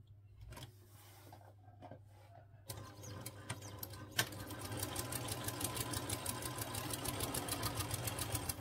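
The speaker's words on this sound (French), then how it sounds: "je viens à 1 cm au point droit classique jusqu'au bout" A domestic sewing machine runs a classic straight stitch along a magnetic pouch from a ready-to-sew kit, starting with a few soft handling noises, then settling into a steady rapid needle rhythm that grows slightly louder and continues alone.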